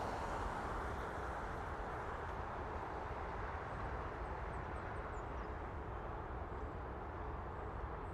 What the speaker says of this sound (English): looks like we have about 4 or 5 planes coming in right now